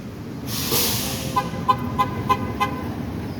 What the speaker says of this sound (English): That's why that bus is beeping the horn.